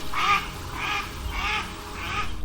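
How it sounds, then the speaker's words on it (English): A grey duck quacking in four evenly spaced, raspy calls that sound like mocking laughter, close and fairly loud against a quiet background. "The mocking laughter of the grey duck rang in their ears as they flew."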